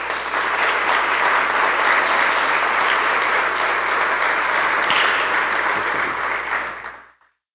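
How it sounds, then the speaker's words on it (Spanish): A church congregation bursts into loud, sustained applause that fills the room evenly, then tapers off quickly at the end. "Aplauda al Señor, por favor."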